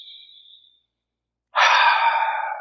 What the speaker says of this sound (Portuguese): respirando profundamente.